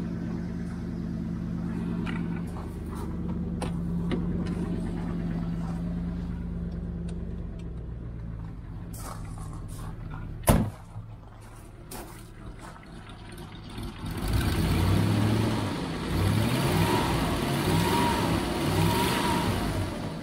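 Triumph Stag engine running on ancient fuel with the choke out, a steady mid-pitched idle that falters briefly, then a louder, rougher rev with rising throb.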